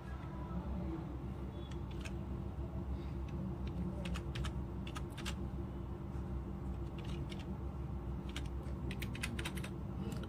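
Someone types a narration on a computer keyboard, a string of quick, irregular key clicks over a steady background hiss. The clicks are fairly close and light, and nobody speaks.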